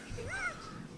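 A single crow caws once, faint and somewhat distant, during the 2024 total solar eclipse in Fort Worth, Texas, against a low background rumble.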